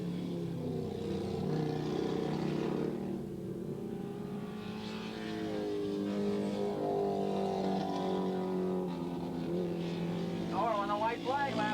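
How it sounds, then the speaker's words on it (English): Racing motorcycles at Willow Springs International Raceway in a 1986 Battle of the Twins and 600 singles event, including a Honda, drone steadily in the distance with rising and falling engine pitch, heard under continuous commentator talk. "But it was Philip Smith, the 163 on the Honda, who's up in there."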